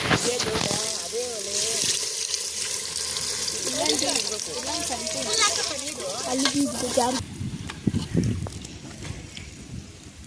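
Masala for tomato bath fries in a pan with a steady sizzle and hiss while a voice talks over it throughout; the texture shifts near the end.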